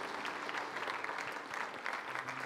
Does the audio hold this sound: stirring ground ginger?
no